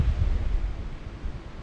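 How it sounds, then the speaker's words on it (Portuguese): Strong wind buffets a campsite, rumbling low and gusty against the microphone in a short, continuous burst. "Olha só o vento forte que tá aqui hoje."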